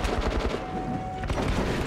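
Rapid automatic gunfire rattles in the video game Metro: Last Light, a dense, loud burst of closely spaced shots running continuously through the clip.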